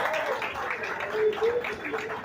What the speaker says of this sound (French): Applaudissez pour nous, Naël, s'il vous plaît.